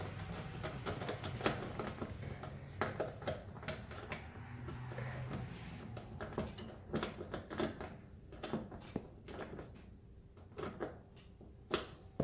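A nut is tightened by hand while installing an electric stove, giving scattered sharp clicks and metallic ticks against a quiet room background, with no talking.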